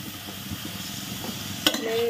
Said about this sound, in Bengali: মাংসগুলোকে একটু ভেজে নেব